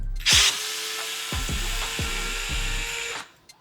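A power driver whirs steadily at close range while backing screws out of a HoBao Hyper SSTE RC differential, with a brief louder burst at the start and a few quick pitch dips before it cuts off.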